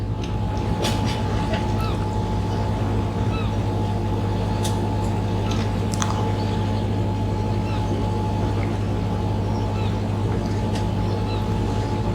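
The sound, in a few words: powerboat racing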